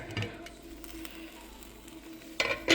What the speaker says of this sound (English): And then we're gonna stir it up